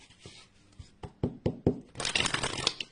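Oracle cards shuffled and drawn by hand, a run of crisp taps and snaps building into a dense riffling flutter, close and fairly loud with no talking.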